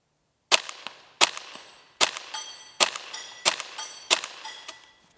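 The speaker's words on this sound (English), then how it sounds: "the first few rounds I'm going to miss on purpose just to show you how quiet it is" Six sharp suppressed shots from a rimfire rifle fitted with a Volquartsen FireFly bolt and loaded with CCI Quiet ammunition, fired at an even pace with short metallic reports and quick decays, close and with no talking.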